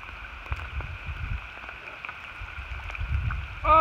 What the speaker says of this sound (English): Raindrops are getting bigger.